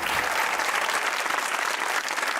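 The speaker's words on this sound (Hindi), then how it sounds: "हाथ के तालियां होनी चाहिए बेटा नज़म के लिए।" A studio audience on an entertainment show breaks into dense, sustained clapping, loud and continuous through the whole moment with no voices over it.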